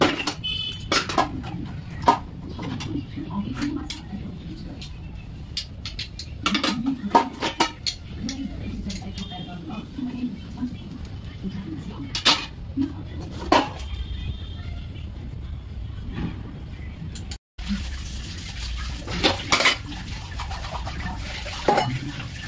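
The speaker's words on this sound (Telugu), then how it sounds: "ఇక్కడైతే గిన్నెలు కడిగేస్తున్నాను అనమాట. గిన్నెలు నీట్గా కడిగేసి తోమేసేసేస్తున్నాను." Dishes and pots being washed and scrubbed by hand in a home kitchen: scattered metallic clinks, clatters and scraping strokes over running water, repeating irregularly throughout.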